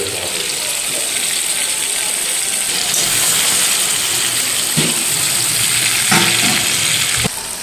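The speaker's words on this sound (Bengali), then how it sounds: "5 মিনিট রসুনটাকে আর মাংসটাকে একটু ভালো করে ভেজে নেব" Chicken pieces and crushed garlic frying in a covered pan, a loud continuous sizzle with a few brief clatters of the lid or utensil.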